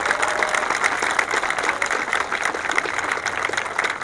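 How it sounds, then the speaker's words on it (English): Parents in a school auditorium applauding students after a spring string concert, a steady dense wash of clapping from a large crowd that holds at an even level throughout. "parents, can we give our students one more round of applause?"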